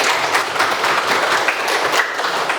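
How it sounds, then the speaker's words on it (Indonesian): Students in a history classroom applaud their classmates with loud, dense, continuous clapping that holds evenly for nearly three seconds. "Tepuk tangan untuk teman-teman."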